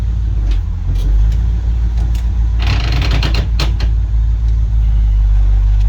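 A 1971 International Travelall 1210, running again after 22 years, drones steadily while driving, loud and close with a constant low rumble and some rattling, clicking mechanical noise throughout.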